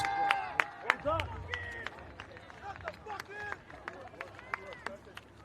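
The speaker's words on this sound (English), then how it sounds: "Listen to that applause." Scattered clapping from football spectators at a Blacktown Men's Premier League match between Ponds FC and Marayong FC, celebrating a win, heard faintly beneath a commentator's talk and open-air crowd murmur.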